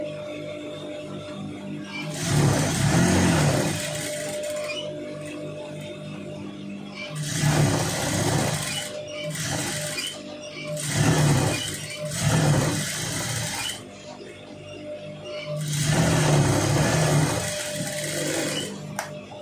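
A sewing machine stitches a long sleeve in four loud motor-driven bursts of rapid needle chatter, each lasting a few seconds, separated by short quieter pauses with faint handling sounds.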